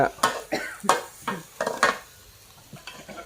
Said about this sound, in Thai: ผัดอะไร ผัดคะน้าผัดผักคะน้า